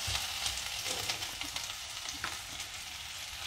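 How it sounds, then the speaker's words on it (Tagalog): Chopped ginger and onion sizzle in hot oil in a pan, a loud steady frying hiss with a few light stirring scrapes, heard up close and alone. "igisa natin itong ating luya, sibuyas"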